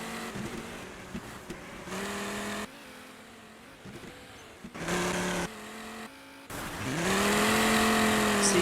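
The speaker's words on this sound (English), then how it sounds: "A bit of a drift there." A race car drifting during a Sunday race-off, its engine revving in repeated loud bursts with brief lifts between them and a sustained high wail at the end, no voices.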